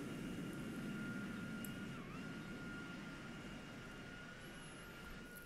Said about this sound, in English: That's a jet!